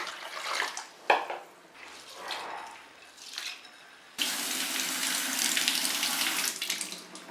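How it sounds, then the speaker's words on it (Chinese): Running tap water splashes over red beans, mung beans, red rice, pearl barley, peanuts, lotus seeds and black rice in a bowl, first in short bursts, then as a steady, loud rush. "用清水清洗干净。"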